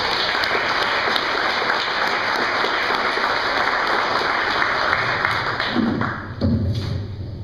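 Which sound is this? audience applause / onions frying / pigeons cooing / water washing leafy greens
audience applause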